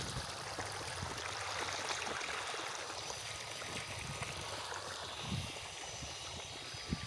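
Clear water pouring out of a 1 hp electric irrigation pump into a field, a steady, even rushing and trickling flow with no talk, moderate and continuous throughout.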